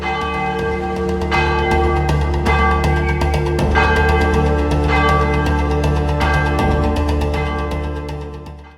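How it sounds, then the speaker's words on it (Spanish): Church bells peal continuously, with repeated resonant strikes ringing over one another in a full, sustained chime. "El cielo ardía y las campanas sonaban a lo lejos."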